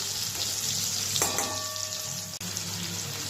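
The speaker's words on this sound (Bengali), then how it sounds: "উচ্ছেগুলো দিয়ে আমি একটুখানি নাড়াচাড়া করে নিচ্ছি এগুলোকে একটু লাল লাল করে ভেজে নিতে হবে" Bitter gourd slices fry in hot oil while being stirred until browned, giving a steady close sizzle with a brief ringing tone partway through and a soft knock near the end.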